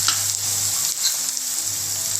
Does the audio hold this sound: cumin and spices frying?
yes